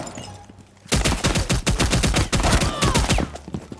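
Dense automatic gunfire in the video game Rainbow Six Siege starts abruptly after a quiet moment. Rapid, loud, close shots follow one another for nearly three seconds, then ease off.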